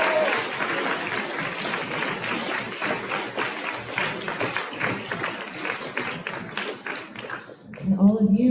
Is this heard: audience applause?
yes